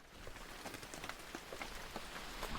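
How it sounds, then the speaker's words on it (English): Rain begins falling outdoors on a paddle-board camping trip, a soft, scattered patter of drops on surfaces that slowly thickens, faint and continuous throughout. "And it's just started to rain."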